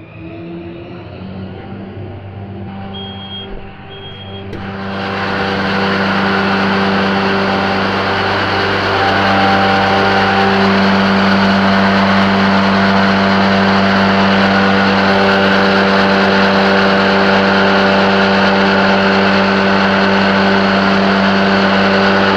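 A John Deere riding front mower's small engine idles low, then revs up around five seconds into a loud, steady drone with strong harmonic hum that holds to the end, PTO engaged.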